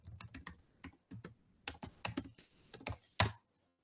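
Keys on a computer keyboard are tapped in quick irregular bursts while a password goes in, ending with one harder keystroke like an Enter press; close and clear with no voices.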